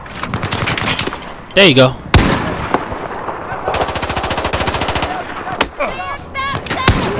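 Rapid bursts of machine gun fire in the video game Battlefield 4, loud and close, with short rattling volleys separated by pauses, while a player talks briefly over the shooting.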